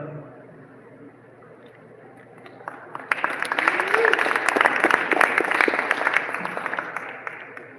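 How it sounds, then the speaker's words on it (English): Applause for musicians at the Tacoma armory swells after a quieter start around three seconds in, becoming loud, dense clapping with scattered voices in the crowd. "Round of applause, ladies and gentlemen."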